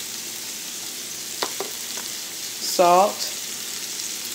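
Sautéing in a skillet with pepper and garlic: a steady, close sizzle throughout, with a few light utensil taps and a brief spoken word over the frying.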